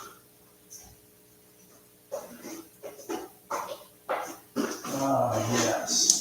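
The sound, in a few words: scraping dog food out of a big barrel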